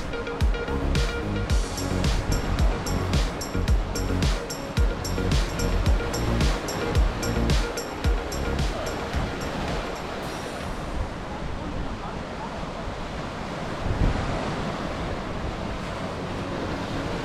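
Ocean waves break and wash along the rocky Homigot coast, a loud, continuous roar of surf mixed with wind buffeting the microphone, with some clattering knocks early on.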